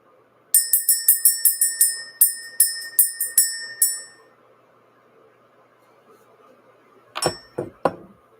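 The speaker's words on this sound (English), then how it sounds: "Let's go ahead and ring the bell this morning." A small metal bell rung in the morning to clear out the energy chimes about a dozen quick bright strikes in a steady run, each ringing briefly, then falls quiet before three low knocks close the clip.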